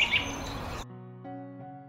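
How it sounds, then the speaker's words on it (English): A robin gives a few quick, bright chirps in the first second, then a soft musical tone carries on alone. "Robin."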